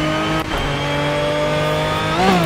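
An Aston Martin V12 Vantage GT3 race car engine in the video game Project Cars revs high and steady, dips briefly as it shifts, then climbs again near the end, loud and close.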